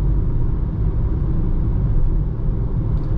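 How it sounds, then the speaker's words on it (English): Low steady rumble inside the cabin of a 2021 Citroen C4 on winter tires rolling over rough tarmac, a dense continuous road roar with no voices. "the noise level inside the cabin, where are on winter tires, the tarmac here is a little bit rough"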